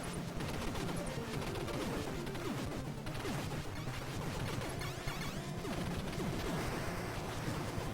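Rapid gunfire from the NES game Contra, a dense stream of quick chiptune shots and explosions layered over game music, constant and busy throughout at modest volume.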